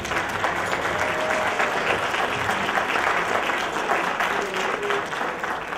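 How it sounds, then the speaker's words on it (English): An audience at a holiday party gives itself a round of applause, producing dense, even clapping that holds steady throughout the clip. "Let's all give ourselves a round of applause."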